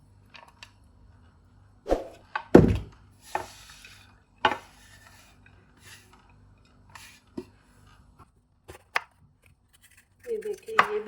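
Onion being cut into pieces on a board, with a few sharp isolated chops and crisp slicing sounds separated by quiet pauses, alongside someone speaking.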